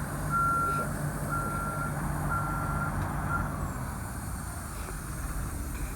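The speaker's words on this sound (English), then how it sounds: "The beepers just beep while the lift is on." A steady series of electronic reversing beeps from a 2007 MCI motor coach, sounding while its wheelchair lift operates, repeats at an even pace over a low engine rumble, fairly close, with no one speaking.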